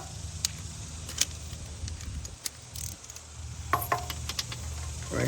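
A ratchet works a 13 mm bolt on a water pump of a Cadillac ATS, giving scattered short metallic clicks and clanks close by over a low background rumble, with no talking.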